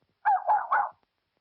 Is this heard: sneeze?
no